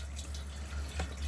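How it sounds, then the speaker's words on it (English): The water pump in a 2019 Compass Kensington 860 caravan runs as the water system fills. A steady low hum sits under faint trickling and dripping water, close by and alone. "Once you've got that water pump running, the water system will start filling."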